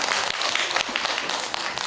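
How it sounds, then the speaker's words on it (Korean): Brief burst of audience applause for a student in a science lecture hall, dense and steady clapping throughout, with no talking over it. "자, 나한테 박수"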